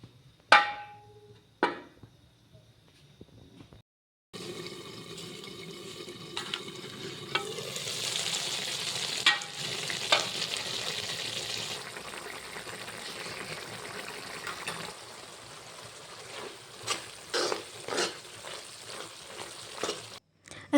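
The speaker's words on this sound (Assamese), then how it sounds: "এতিয়া এইখিনি অলপ সময়ৰ বাবে উতলিবলৈ দিছোঁ" Taro stem curry with homemade khar (alkaline water) simmering and sizzling in a pan, a steady bubbling hiss with brief clatters of a utensil; no talking.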